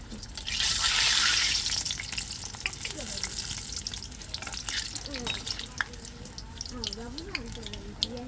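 Beguni, battered eggplant slices, frying in oil: a bright burst of sizzling when pieces go in, then steady bubbling crackle with scattered clinks, while someone talks and a voice rises over it.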